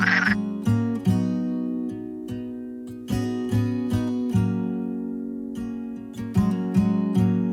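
Frogs croak loudly and close by, a steady series of resonant pulsing calls repeating roughly every half second to second with no talk.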